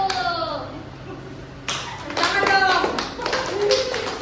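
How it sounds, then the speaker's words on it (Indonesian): A classroom of students claps for a group during a microteaching lesson, a short burst of scattered, uneven hand claps joined by children's voices and a brief spoken remark. "tepuk tangan untuk kelompok 1"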